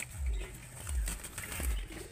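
Pigeons recovering from illness coo softly in a loft, low throaty calls repeating in a slow, even rhythm, fairly faint and close by.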